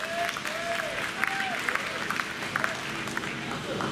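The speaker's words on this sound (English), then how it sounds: "Let's give him a round of applause." Audience applause rises for a volunteer at a live show. The clapping is soft and somewhat distant, and people talk over it throughout.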